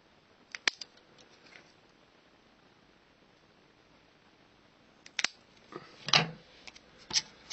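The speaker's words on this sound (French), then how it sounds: "Vous allez faire une coupe aux angles pour arrondir les angles." Scissors make a few quiet, sharp snips as they round the corners of a reed-valve membrane for a Peugeot Vogue moped. Two isolated cuts come first, then a short cluster of snips after a silent pause.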